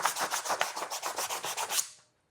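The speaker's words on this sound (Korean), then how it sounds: "여기 위에 사포를 이렇게 쳐요" Sandpaper scrubs over a painted surface, a run of about a dozen quick, even rasping strokes, close and fairly loud, that stops abruptly into silence near the end.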